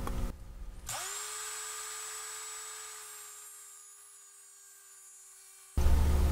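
A small rotary power tool spins up to a high steady whine while cutting through the connection strip on a lithium-ion battery pack, holding its pitch for several seconds before a louder clatter takes over at the end.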